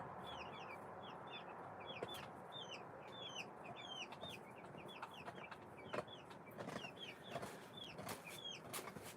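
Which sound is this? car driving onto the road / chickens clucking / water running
chickens clucking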